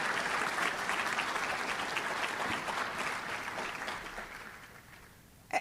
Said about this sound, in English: So let's make sure we give them a big round of applause